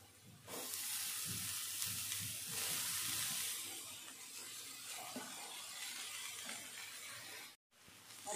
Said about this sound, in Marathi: पाच मिनिट परतून घ्यायची आहे भाजी छान।